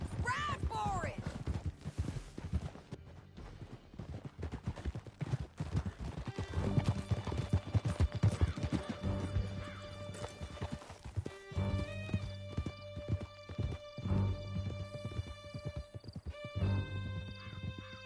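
Horses galloping in the Red Dead Redemption 2 western game, a steady clip-clop of hooves with a horse whinnying, heard under speech and music.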